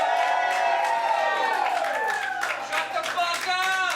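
A comedy roast crowd cheers, whoops and claps loudly, a lively mix of many voices and hands that swells and stays strong throughout.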